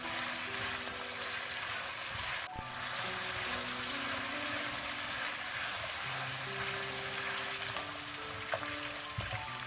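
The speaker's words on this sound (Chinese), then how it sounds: "一直炒到排骨表皮微微焦黄" Fresh marinated pork ribs stir-frying in a hot pan, a steady dense sizzle and crackle of fat and moisture running continuously, with occasional scrape of the spatula turning the meat.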